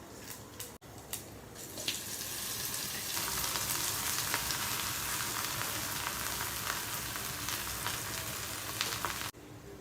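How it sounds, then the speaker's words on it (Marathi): Diced potato frying in hot oil with curry leaves, a steady loud sizzle that rises after a brief clatter and runs continuously, alone without talk. "आणि मग आपण बारीक केलेला बटाटा तो पण तेलामध्ये टाकून द्यायचा आहे।"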